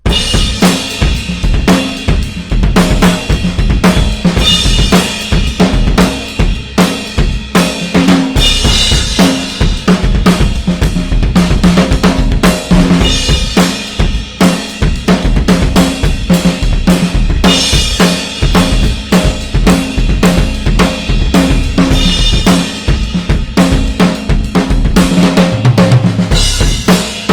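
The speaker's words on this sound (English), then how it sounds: "I like to play with the lead bass drum, pushing the bass drum like this." A full drum kit plays loudly and steadily, with a driving bass drum thumping under crashing cymbals and snare hits throughout.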